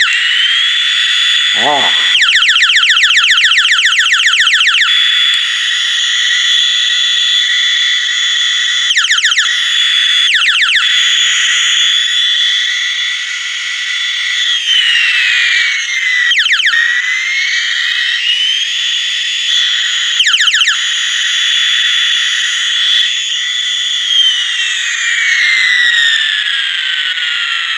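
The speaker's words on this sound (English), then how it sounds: "you can actually do more squeezes to get more laser sounds while it's doing the liftoff sound" A 1992 Batman Returns Rocket Blast deluxe sound figure plays a long electronic liftoff effect with repeated squeezed laser zaps layered over it, loud and continuous with rapid pulsing bursts, plus a brief vocal utterance near the start.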